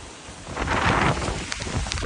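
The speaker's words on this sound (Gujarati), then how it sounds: "તો વરસાદ ફૂલ ચાલુ છે ભાઈ" Steady heavy rain hisses across the whole clip, a dense broadband wash that swells slightly midway, with a faint low rumble underneath and no voices.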